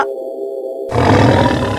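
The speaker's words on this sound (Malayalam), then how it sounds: "അയ്യോ കടുവ!" A deep, loud tiger roar bursts in after a short buzzing tone, rumbling heavily and close for about a second.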